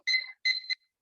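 A yoga class timer beeps in two short electronic bursts, the second ending with a quick extra chirp, loud and clear against silence.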